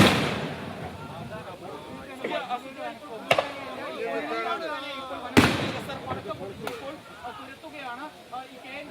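Two or three sharp firecracker bangs, set off by forest officials to drive elephants from a residential area, burst out at irregular moments over steady background talk and outdoor noise.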